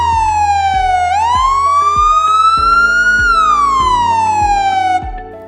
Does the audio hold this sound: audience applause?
no